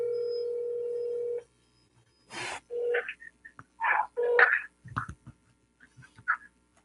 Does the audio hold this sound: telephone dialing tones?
yes